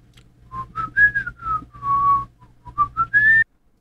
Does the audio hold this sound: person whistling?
yes